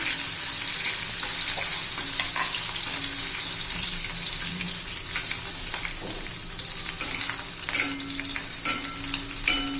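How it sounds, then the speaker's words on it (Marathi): Garlic and green chilies sizzle steadily in hot oil in a pan, a continuous close frying hiss with occasional stirring scrapes and clinks. "चांगली परतून घ्यायचे लसूण आणि मिरची"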